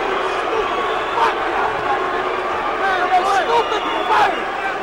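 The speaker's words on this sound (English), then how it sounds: "And you can hear the crowd reaction." Boxing arena crowd reacts to a stopped fight, a loud, swelling roar of voices and shouts with scattered cheers, continuous and close throughout.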